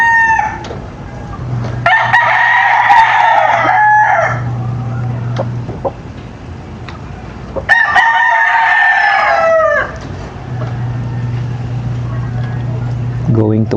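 A yellow-legged hatch rooster crows twice, loud and close, each call a long drawn-out cock-a-doodle-doo separated by a pause, over a steady low engine-like hum in the background.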